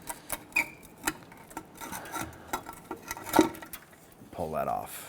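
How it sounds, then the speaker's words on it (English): Differential cover being worked loose and pulled off the rear axle of a 2006-2010 Hummer H3, giving scattered metallic scrapes, taps and rubbing clicks up close, with a voice talking near the end. "Go ahead and grab that diff cover."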